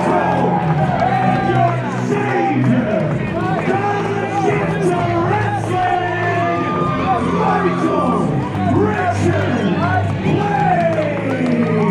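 Crowd at a wrestling show in the Rec Room, South Common, South Edmonton: a steady roar of cheers, whoops and yelling from a large audience, with a voice speaking over it.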